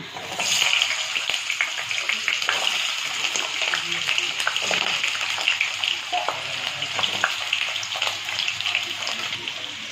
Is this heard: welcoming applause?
no